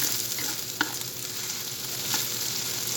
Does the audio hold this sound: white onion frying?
yes